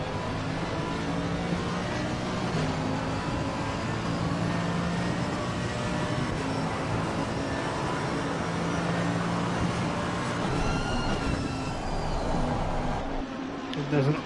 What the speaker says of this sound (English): Let's listen to this AMG power.